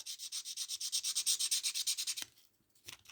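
Sandpaper is rubbed back and forth on the connecting rod of a Hornby model locomotive in quick, even strokes for about two seconds, close and fairly quiet, then a few faint stray scrapes.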